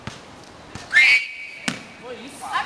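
A referee's whistle sounds in one clear, sustained blast during a volleyball game, with thumps from the court and voices around it.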